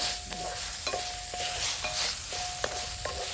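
Tamarind, squeezed dry after soaking, hits a pan of fried spices for a coriander-mint chutney: a steady close sizzle broken by repeated scraping stir strokes and light utensil taps against the pan.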